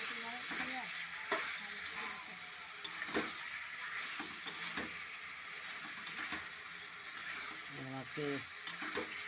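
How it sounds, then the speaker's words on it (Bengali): Meat and cauliflower stir-fried slowly in a pan, with a steady soft sizzle and occasional sharp clacks of a spatula against the pan. A voice talks intermittently over the cooking. "তাহলে আস্তে আস্তে করে কষে নিতে হবে"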